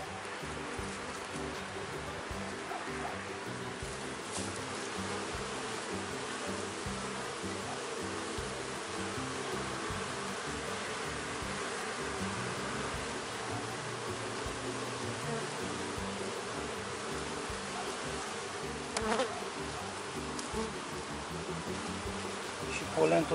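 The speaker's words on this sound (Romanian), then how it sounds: "multe albinuțe pe câmp" Honeybees in a Romanian apiary, fed syrup in spring, fill the air with a continuous dense buzz around the hive, with faint clicks now and then.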